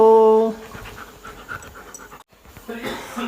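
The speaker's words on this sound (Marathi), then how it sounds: "नुसतं धाप टाकते गरमीमुळे किती धापा टाकते" A dog pants rapidly in the heat, quick rhythmic breaths close by, with a brief tonal sound at the start and a short silent gap before panting resumes.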